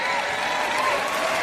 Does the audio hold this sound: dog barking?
no